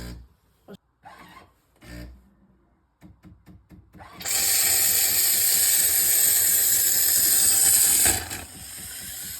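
A coffee maker in its self-cleaning cycle gives a few short mechanical clicks and clunks, then breaks into a loud, steady hiss and gurgle as it draws up water, cutting back sharply near the end.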